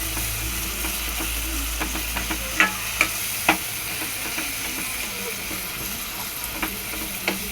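Onions and tomatoes sauté in a pan for a chicken salna, giving a soft steady sizzle broken by scraping stirs and a few light spatula taps.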